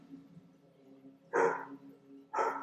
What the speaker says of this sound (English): If you can hear, that's Betsy barking